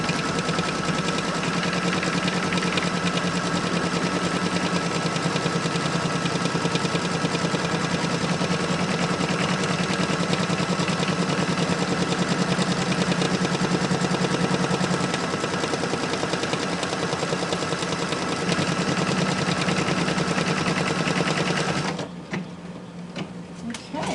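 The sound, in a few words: sewing machine stitching out quilt applique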